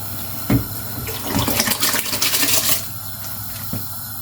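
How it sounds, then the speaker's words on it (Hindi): Rice poured into a pot of boiling water while cooking sweet mutanjan zarda rice, a short splash followed by about two seconds of bubbling, pouring water close by, then a quieter simmer. "पानी उबल चुका है,"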